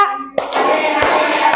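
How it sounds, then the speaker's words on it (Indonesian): Children in a counting game clap their hands together in a burst of quick, overlapping claps that ring out close and lively, following a brief counting voice. "Yang ketiga tepuk tangan."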